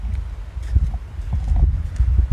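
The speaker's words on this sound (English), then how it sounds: "Bonus horse, everybody." A farm horse walks close by on a spring farm, hooves clip-clopping in an irregular, unhurried rhythm against light outdoor background noise.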